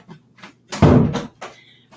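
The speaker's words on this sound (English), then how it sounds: "Just wanted to close my door so I wasn't distracted" A room door is pushed shut with a single solid thud, preceded by faint shuffling and followed by a brief latch click and light rustle.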